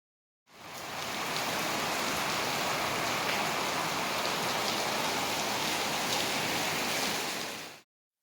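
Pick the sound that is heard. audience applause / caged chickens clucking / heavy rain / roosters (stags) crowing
heavy rain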